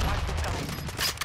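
Gunfire rattles in a multiplayer shooter video game, a quick cluster of close, sharp shots over a loud steady background.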